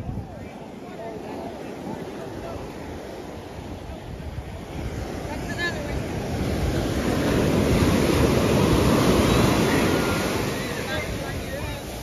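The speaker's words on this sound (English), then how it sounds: "I didn't know the waves were that big." Ocean waves break on a sandy beach in a loud continuous roar of surf and wind buffeting the microphone, swelling to a crest before easing slightly.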